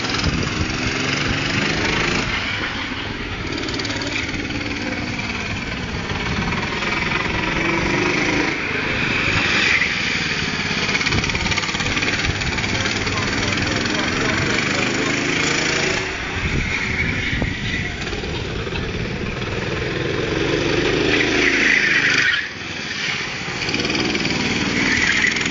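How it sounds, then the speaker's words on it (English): A school go-kart engine with a slipping clutch runs steadily in a school playground, a loud, buzzy small-engine drone that holds for the whole stretch with slight rises and dips in pitch. "Nah, it's just slipping. Clutch was slipping."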